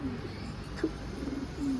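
A pet pigeon or dove on a rooftop gives soft cooing calls, a few low coos spread across the moment with quiet outdoor background and no clear talk.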